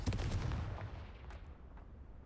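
A Confringo blasting spell in Hogwarts Legacy goes off as a loud, booming blast at the start, followed by a rumbling decay that fades over about two seconds.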